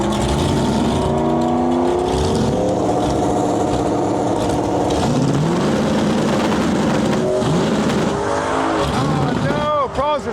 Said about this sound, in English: So we're gonna run my 71 Pro Charge Chevelle